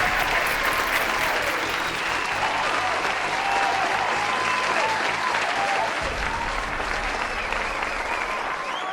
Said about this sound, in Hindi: दोस्तों एक बार खड़े होकर जोरदार तालियों के साथ